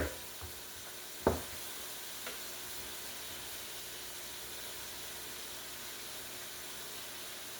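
Unstuffed bell pepper mixture sizzles quietly in a pan. One sharp knock comes from a spoon or spatula while it is stirred, followed by a softer tap, all under a low, even hiss with no voices.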